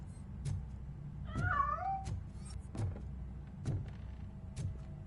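A cat gives a single wavering meow inside the first-person shooter Robocop Rogue City, close and clear over a low game hum, with periodic heavy clanking footsteps around it.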